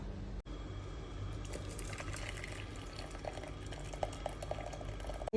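Hot tea being strained through a sieve in a home kitchen, a steady close liquid pour and trickle running without a break for several seconds, with no voices.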